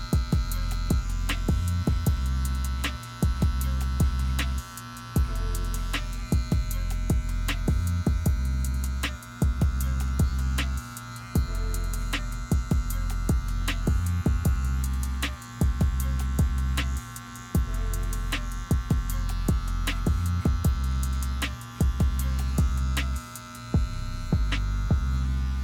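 Electric hair clipper buzzing steadily through a bald fade haircut, a continuous loud motor hum with brief dips as the blade moves across the head, no talking.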